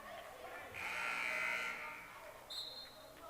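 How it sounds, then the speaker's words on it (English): A sustained electronic shot clock buzzer blares for about a second during a women's college basketball game, with a crowd murmuring and a voice talking over it. "the shot clock buzzer sounds."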